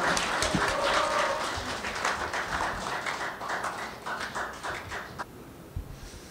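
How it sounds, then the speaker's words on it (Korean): A crowd applauds steadily at a Korean peace and reunification symposium, a dense patter of many hands clapping at moderate distance that gradually thins and fades toward the end. "뜨거운 박수를 다시 한번 부탁드립니다"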